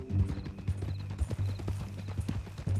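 Horse hooves clip-clop at a steady walking pace in the video game Red Dead Redemption 2. The footfalls are close and even and play over a low, constant background hum, with no voices.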